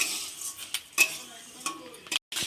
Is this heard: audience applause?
no